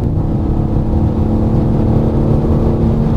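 A 2025 BMW M4 CS on a race track, its engine holding a steady, loud droning hum with a constant tonal whine, without noticeable revving changes over a few seconds.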